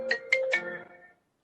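A phone ringtone sounds during a regular board meeting: a short melodic run of bright chiming tones, fairly near and moderately loud, then a brief pause before the tune starts again.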